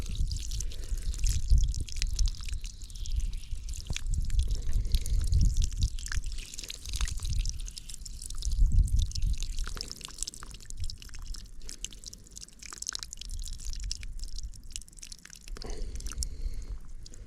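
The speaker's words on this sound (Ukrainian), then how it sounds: "Ну але капає воно трохи засильно." Water drips and trickles from a drip irrigation line running along raspberry plants, a close, irregular patter of small splashes and gurgles continuing throughout.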